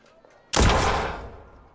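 A single heavy blast of gunfire at enemies in the space game Spacebourne 2, sudden and loud after near silence, then a long decaying rumble.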